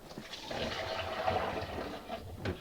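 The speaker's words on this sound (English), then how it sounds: "just pour a bit of water in and see if we have any drips" Water pours from a jug into the sump of an old Hotpoint 6834 dishwasher, a steady splashing gush with a watery trickle, close and moderately loud throughout.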